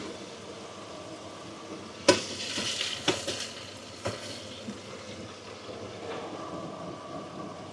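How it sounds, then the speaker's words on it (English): Browned beef for a stew stirred in a pan, a low steady sizzle broken by a few sharp scrapes and clanks of the spoon near the start, close up with no talk. "Okay, we're going to stir that through"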